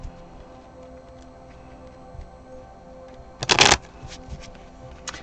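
Tarot cards shuffled in one brief, crisp riffle burst near the middle, with soft handling clicks and light taps around it in a quiet room.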